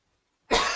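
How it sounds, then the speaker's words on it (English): A single sharp, close cough bursts out after a moment of silence. "just got a bit of a cough"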